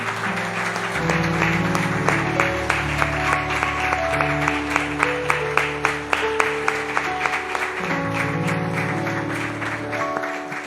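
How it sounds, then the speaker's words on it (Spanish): Applause from a church congregation during a worship service: a steady run of hand claps, fairly close and loud, over sustained organ-like music that carries on beneath the clapping throughout. "Le damos un aplauso al Señor"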